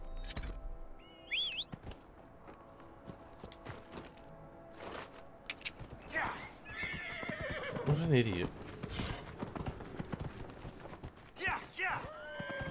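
Horse neighing and whinnying with hooves clip-clopping at a gallop in the Dragon Age Inquisition video game, loud whinnies rising over steady hoofbeats while someone talks briefly.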